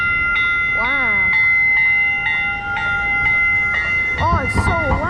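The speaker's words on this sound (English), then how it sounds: "Oh, it's so loud. Oh, it's rumbling the ground." A train rumbles past loudly and close, a steady low roar with sustained horn-like tones and rising and falling whines, while a voice exclaims over it near the end.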